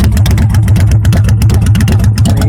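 A car engine revving through homemade 1 3/4-inch exhaust pipes wrapped in exhaust wrap, a loud, close, throbbing low rumble with a quick steady pulse over a short burst.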